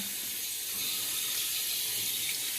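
Tap water runs steadily into a sink while a face is wetted before shaving with a custom razor, a continuous close hiss of flowing water with no voices.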